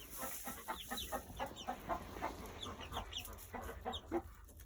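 A flock of Plymouth Rock chickens, with a rooster among them, clucks close by in a busy, irregular chatter of short repeated calls, with no talking.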